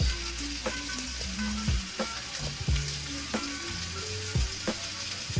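Steak sizzles and fries steadily in a hot pan, a continuous loud crackle with occasional sharper pops and stirring clatter, with no talking.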